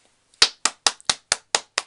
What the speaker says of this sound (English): round of applause Revolution for like coming up with 18 shades